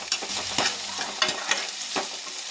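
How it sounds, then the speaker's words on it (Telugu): Chopped onions and green chillies frying in oil in a kadai for aloo kurma, a steady close sizzle broken by a few scraping stirs of the spoon. "ఇప్పుడు కట్ చేసిన ఉల్లిపాయలు, పచ్చిమిర్చి. ఇవి ఎక్కువ ఫ్రై అవ్వని అవసరం"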